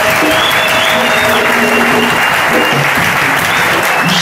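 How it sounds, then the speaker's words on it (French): A church congregation applauds loudly and steadily at a Congolese service, dense continuous clapping filling the room for the whole stretch, with faint tonal sounds from voices or instruments underneath. "Applaudissons pour le Seigneur Jésus."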